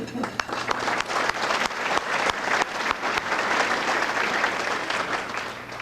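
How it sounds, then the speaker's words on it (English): A luncheon audience supporting Scouting gives a round of applause, dense clapping with some sharp individual claps standing out, building and holding steady at a fair level before easing slightly at the end. "I think we owe our table hosts, Don Fletcher, and all of you a round of applause for coming today to support Scouting"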